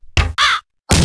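Birds cawing in the game Grotto King: three loud, harsh crow-like caws close by, the first two back to back, then a short pause before the third, with no talk.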